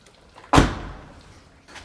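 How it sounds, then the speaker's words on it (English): Bonnet catch on a Ferrari 360 Modena pulled in the door jamb, giving a single sharp clunk with a brief decaying rattle, followed by a faint second knock. "we will open the bonnet catch, which is just in the door jamb here."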